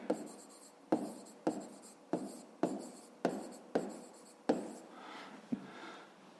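Pen or pencil scratching across paper in a math lesson, a run of about eight short strokes in a steady rhythm, close and fairly quiet with no voices.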